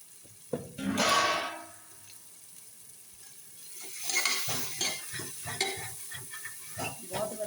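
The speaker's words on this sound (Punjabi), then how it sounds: "ਆਪਣੇ ਗੰਡੇ ਤੇ ਤੋਰੀਆਂ ਇਕੱਠੀ ਆਪਣੇ ਕੱਟੇ ਵੇ ਆਪਾਂ ਇਹਦੇ ਵਿੱਚ ਭੁੰਨ ਲਾਂਗੇ ਥੋੜਾ ਟਾਈਮ ਤੇਲ ਦੇ ਵਿੱਚ" Onions and ridge gourd fry in oil in a home kitchen, a soft sizzle with scattered stirring clatters, including one early burst and a busier run of scrapes toward the end.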